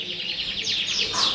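Yorkshire canaries chirp in a bird shop, a dense, continuous stream of high bright twittering and trills that grows slightly busier toward the end, with faint voices in the background.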